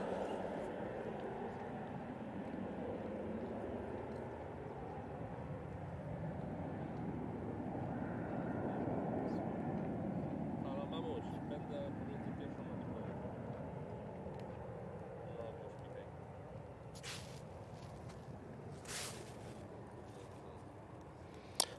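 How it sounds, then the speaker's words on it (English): A business jet takes off at Manchester Airport, its engine roar a steady broad rumble that swells gently and then eases, heard from a distance with no voices and a few faint clicks near the end. "Nice BizJet departure."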